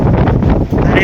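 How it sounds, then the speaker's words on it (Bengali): Strong wind buffets the microphone on the open deck of the Bandhon 5 river launch travelling from Kalaiya, a steady loud roar with gusty rustling throughout. "প্রচুর বাতাস আজকে নদীতে।"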